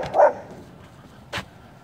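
Dog barking at neighbors outside, one sharp close bark followed by a second shorter bark after a pause, with no talking.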